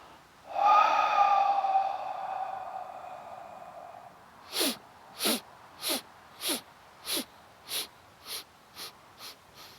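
A long deep breath drawn in and then released during a yoga breathing exercise, followed by a series of short, rhythmic, forceful nasal exhales, close and clear with no talking.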